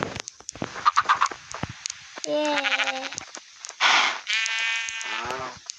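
Sheep in a village-building video game let out a few wavering bleats in short bursts. Clicks and voices are mixed in among them.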